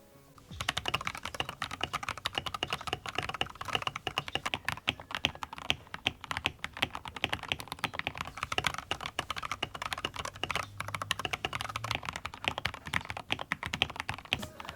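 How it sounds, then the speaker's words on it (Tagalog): Rapid typing on a Gamakay LK67 and a TOM680 mechanical keyboard modded with lubed Gateron switches, an acrylic plate and matching keycaps: dense close clacks and thocks in a fast continuous stream, alone without talk. "here it is compared to my TOM680, which has been heavily modded with lube Gateron blocks and an acrylic plate with the same keycaps"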